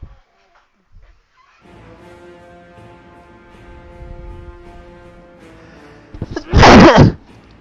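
Low humming sound, then a single loud, sharp sneeze bursts out near the end, close and abrupt.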